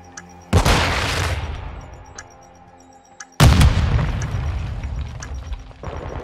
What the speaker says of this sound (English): Stand by to detonate.